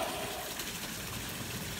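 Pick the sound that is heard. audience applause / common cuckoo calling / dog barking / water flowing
water flowing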